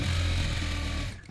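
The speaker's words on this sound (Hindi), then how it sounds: "फ्रंट साइड एक पैर के गैप पे हमने सिलाई लगानी है, इसे पक्के करते हुए" A sewing machine stitches fabric for a men's winter T-shirt warmer, a loud, close, steady mechanical whir that runs evenly before stopping abruptly near the end.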